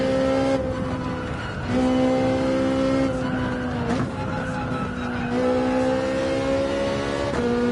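A race car in Gran Turismo 7 roars loudly and continuously, its engine climbing in pitch and dropping at each of several gear shifts, with brief tire squeal between pulls.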